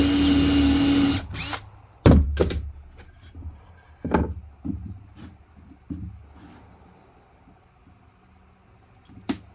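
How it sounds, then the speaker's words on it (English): A power drill whirs in several short bursts, drilling a screw hole in a homemade coat rack, loud and close, with brief pauses and small clunks between the runs. "Last step is to drill out for the screw hole."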